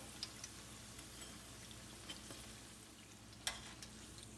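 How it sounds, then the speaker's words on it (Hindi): Chicken keema pakoras deep-frying in hot oil over high heat give a steady, soft bubbling sizzle, with a few faint ticks and one sharper click near the end. No one speaks. "जो बाकी रह गए उनको भी फ्राई कर लेते हैं"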